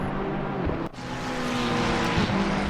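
On-board engine roar of a McLaren GT race car in Assetto Corsa Competizione at the Hungaroring, loud and close. It holds a steady high pitch, then briefly drops on a gear change and rises again as the car accelerates.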